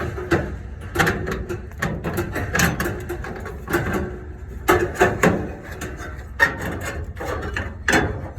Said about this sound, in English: now I'm gonna lift this and try to get the bracket out